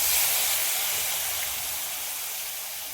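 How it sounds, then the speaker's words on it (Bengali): Water poured into a hot pan of bottle gourd greens curry with chopped green chillies, giving a steady loud sizzling hiss that fades slightly over about three seconds, with no talking. "নেড়ে নিয়ে জল ঢেলে দেব।"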